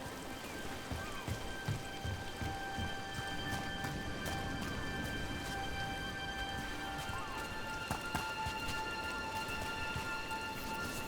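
Steady rain falls in a Dragon Age: The Veilguard scene, a continuous hiss of drops with scattered patters and clip-clop-like knocks, heard without talk.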